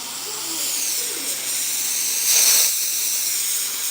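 Sata Route 66 paint gun spraying, a steady close hiss of compressed air and paint that swells briefly in the middle, with no talking.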